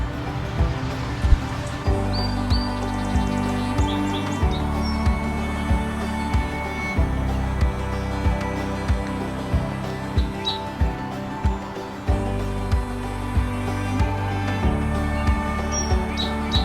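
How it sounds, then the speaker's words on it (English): A yellow warbler sings outdoors at a newly built nature center among young trees, brief high chirps scattered faintly at a distance over a steady background of rain-like noise and a low hum. "I hear a warbler. I'm pretty sure it's a yellow warbler"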